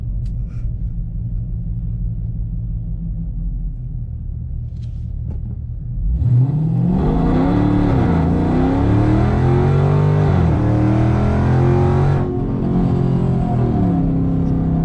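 A car on new Nitto NT555 G2 tires idles, then launches hard for a 0 to 60 run. The engine roars loudly, rising in pitch through several gear changes, close and continuous, with no voices.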